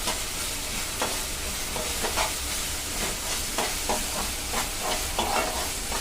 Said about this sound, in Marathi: थोडं व्यवस्थित परता म्हणजे मिरचीचा जो कच्चापणा असतो तो व्यवस्थित